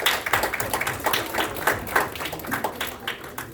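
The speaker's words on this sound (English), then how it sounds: "Give Garima a round of applause." A small audience claps for a volunteer named Garima coming up from the middle rows at a public speaking session, a brief scattered round of hand claps close by with no talk over it.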